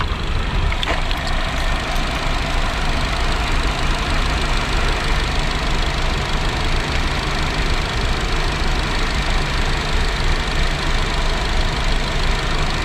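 A SsangYong Tivoli's engine idles steadily while warming up, a continuous close mechanical hum with a faint knocking texture and no breaks, running alone without talk throughout.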